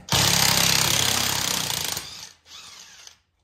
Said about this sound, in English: depending on the size impact you're using. I'm using a big brushless Makita one